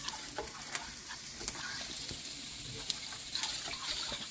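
Gram flour and curd batter for kadhi being stirred and whisked in a bowl, a steady wet scraping and swishing with small clinks, close and continuous, with no talking.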